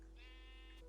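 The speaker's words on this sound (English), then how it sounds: "And this other sheep, come in here" A brief single sheep bleat from the blocky sandbox game Minecraft, short, wavering and fairly quiet, heard alone without speech.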